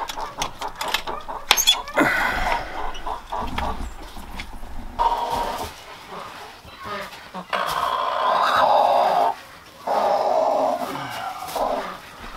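Hens cluck inside a chicken coop on a winter morning, repeated close clucking calls and squawks while a person talks nearby.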